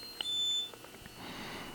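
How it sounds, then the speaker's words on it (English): A bright electronic beep rings out from a Walkera Vitus drone controller powering on, followed by a few softer short tones, then a quiet rustling hiss; close and clear. "We hear a couple beeps"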